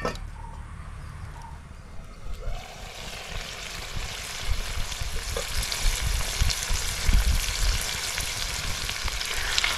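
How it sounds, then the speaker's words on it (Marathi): Chicken liver masala cooks in a pan, producing a steady frying sizzle that grows denser and louder, with faint bubbling and spattering throughout. "आता आपल्याला ही कलेजी वाफेवर अशी झाकण ठेवायचं आहे आणि वाफेवर अशी चांगली शिजवून घ्यायची आहे आपल्याला"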